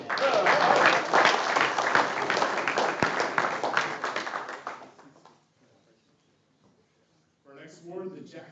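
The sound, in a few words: audience applause at awards ceremony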